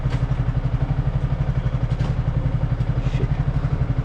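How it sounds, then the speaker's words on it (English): A Royal Enfield Classic 350 motorcycle idles close by with a loud, steady, evenly pulsing single-cylinder thump and some mechanical clatter, alone without speech. "This is my bike, Royal Enfield Classic 350."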